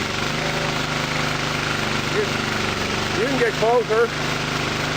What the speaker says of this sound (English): that really pulls that motor down a lot when it does that